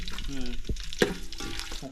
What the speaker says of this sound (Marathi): आता भाजी फोडणी जिरा जिरा तेजपत्ता मिरची टाक